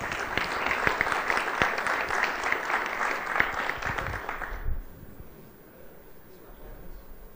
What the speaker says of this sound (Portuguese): uma salva de palmas a Andrea.